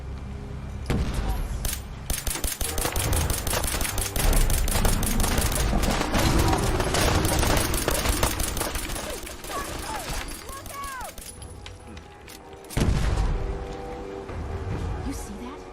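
Fallout 4 battle against gulpers: a sustained volley of rapid gunfire from several weapons, loud and close, with shouting voices, a short lull, then another heavy burst of shots.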